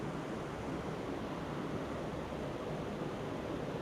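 Steady, broadband rush of a waterfall on Exmoor, constant and fairly soft, with no pauses or voices.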